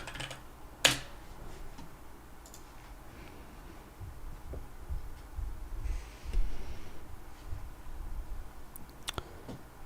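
A cat steps and sits on a computer keyboard, producing a few soft, scattered key clicks against a quiet room hum, with one sharper tap near the start.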